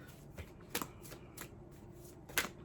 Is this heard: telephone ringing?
no